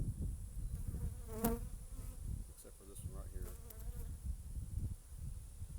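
Honey bees buzz in an opened hive with supers in a savanna apiary during an April inspection, a dense continuous hum close up, with someone briefly talking over it.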